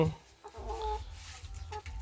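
Young laying hens kept in a coop with nest boxes cluck softly nearby, a few short calls over low background noise.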